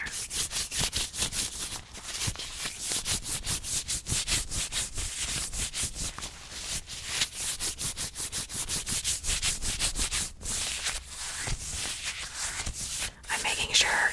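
Hand sanitizer is rubbed into the hands close to the mic in a tattoo-artist roleplay, a fast rhythmic swishing friction that repeats steadily, with soft whispered talk now and then.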